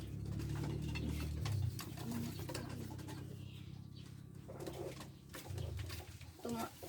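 Pigeons coo close by in repeated low, throaty phrases, several soft calls over a faint background hum.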